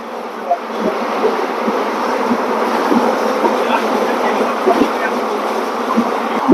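A steady rushing rumble of an Intercity Express chair-car train running at speed between Patiala and Bathinda, with periodic rhythmic clacks of wheels over rail joints.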